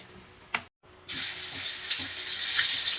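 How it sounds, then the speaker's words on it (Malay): Chicken pieces seasoned with turmeric and salt hitting hot oil, a brief clatter followed by a steady, loud sizzle that builds and holds close by, with no talking. "Kita perlu goreng ayam setengah masak saja ya."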